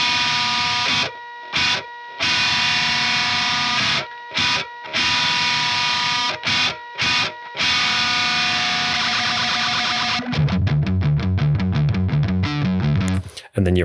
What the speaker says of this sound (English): Then after a while, with the gonk still on, kick the distortion back on.